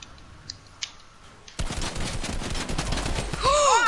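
Burst of rapid automatic gunfire from a zombie survival game mode, loud and dense after a quiet start, with continuous rattling shots and whooshing effects near the end.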